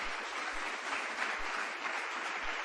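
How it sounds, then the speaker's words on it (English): Steady, dense applause from an audience at a government update event on the electricity sector, a continuous broadband clatter of many hands at moderate level with no talk over it. "We have to give them a big round of applause."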